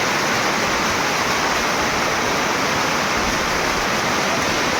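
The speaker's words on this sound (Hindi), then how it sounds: "अरे भाई इतना तेज बहाव है ना" Strong, fast-flowing water rushes past a dam in a steady, loud, broadband roar, close by and unbroken, with no voices over it.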